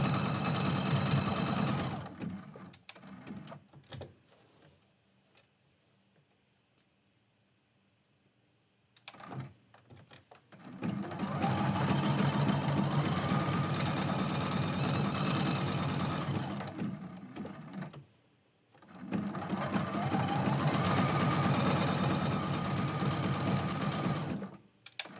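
A sewing machine stitching Christmas quilt blocks in two long steady runs of fast, even mechanical whirring, close and loud, separated by quiet pauses with light handling noises.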